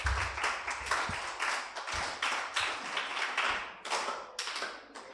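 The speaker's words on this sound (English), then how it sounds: "Let's clap for her again." An audience at a Radical New Bar press and public engagement event claps steadily, a dense, close patter of many hands lasting a few seconds with slight swells and no speech over it.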